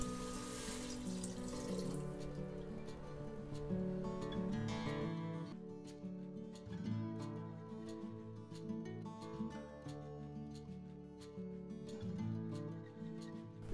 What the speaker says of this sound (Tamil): அப்புறம் 3/2 கப் தண்ணி ஊற்றிக்கலாங்க.